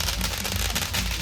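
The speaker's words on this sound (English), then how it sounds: "This guy standing in the middle of all the fireworks." Fireworks burst around the Phi Phi islands in Thailand in a short, dense volley of loud, close crackling pops.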